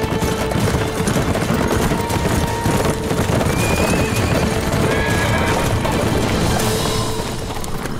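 Horses at a cave hideout in a historical battle drama, neighing and stamping amid a dense, loud, continuous mix of hooves and commotion.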